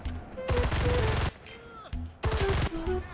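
Bursts of rapid gunfire from an SVT-40 rifle with a Bubnov drum magazine in the shooter game Enlisted, two loud volleys separated by a short pause, with in-game tones underneath.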